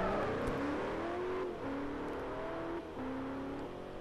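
A Bugatti Veyron Super Sport powers through a corner on a track, engine tone sweeping upward through rising gear pulls with short dips at shifts, loud and continuous with road and wind roar, no talking.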